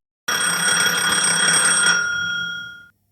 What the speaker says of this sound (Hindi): तभी उसके फोन की घंटी बजी।